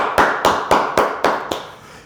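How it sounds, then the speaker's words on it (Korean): A church congregation at a dawn prayer meeting claps in praise. Six sharp, evenly spaced claps land in unison, each ringing briefly in the room, then the sound fades away. "주님께 감사와 영광의 박수 올려드리겠습니다"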